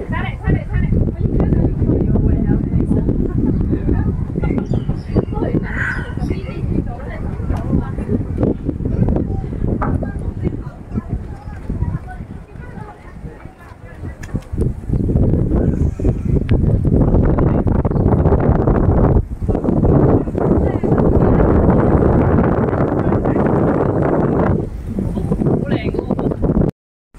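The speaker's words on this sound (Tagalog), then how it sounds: "Maririnig natin yung tunog ng hangin dito." Steady, heavy wind buffeting the microphone outdoors at the Tai Po Waterfront Park in Hong Kong, a constant low roar with gusts swelling louder, while voices talk over it.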